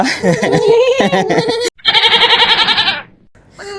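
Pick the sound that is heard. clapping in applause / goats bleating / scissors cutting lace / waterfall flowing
goats bleating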